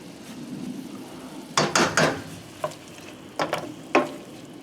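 Garlic and rosemary hit a hot pan for chicken with brandy cream sauce, giving a steady close sizzle broken by a few sharp clanks and scrapes of stirring.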